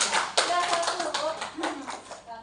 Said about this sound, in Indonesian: Tepuk tangan dulu bisa.